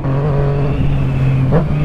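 A motorcycle engine revs and pulls under acceleration in a short, steady burst, its drone holding a constant pitch close by with a brief rise near the end.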